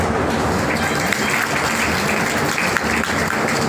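Audience applause at a business event in Noida, a continuous dense clapping that holds steady and fairly loud throughout, with a faint murmur of voices beneath it.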